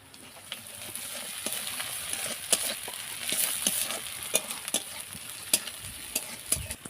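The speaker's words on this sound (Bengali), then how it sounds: "মশলা আমাদের ভাজা হয়ে গেছে" Spices and garlic paste frying in a pan with chopped onion and green chilli, a steady close sizzle broken by repeated sharp clicks and scrapes of a spatula, no voices.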